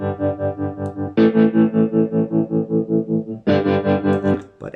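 Sustained tones run through the GoodHertz Trem Control tremolo plugin with tube coloration, pulsing in a steady, even volume wobble with a slightly warm distorted edge. A louder, brighter chord enters midway and again near the end, with no voices.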